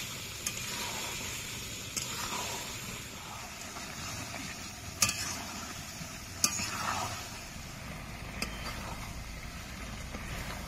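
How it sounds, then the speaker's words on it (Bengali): Chicken curry with yogurt being sautéed in a pan gives a faint, steady sizzle, with a few sharp metallic clicks from stirring spaced several seconds apart. "এবার ভালো করে কষে নেব।"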